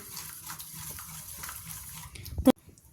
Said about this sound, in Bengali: এতে আমি আরও এক কাপ জল দিচ্ছি দিয়ে এবার আমি এটাকে ভালো করে মিশিয়ে নিচ্ছি